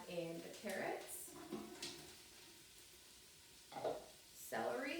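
White onion sautéing in an Instant Pot gives a soft, steady sizzle with occasional stirring scrapes, while a voice talks over it in short bursts.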